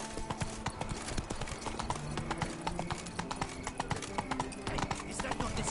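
Roach, a horse in The Witcher 3, gallops with steady, rapid clip-clop hoofbeats, close and continuous over busy game sounds and music.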